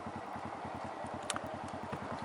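A manual motorcycle creeping forward at about walking pace on a half-engaged clutch, its engine putting out a quick, even low thudding pulse close by, with a faint clatter over the top.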